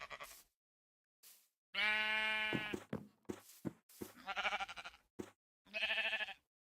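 Sheep in the Minecraft video game give several distinct bleats, close and clear, with short gaps of silence between the calls and no talking over them.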